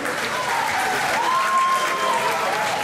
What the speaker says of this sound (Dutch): Mag ik een applaus voor deze beide kanjers?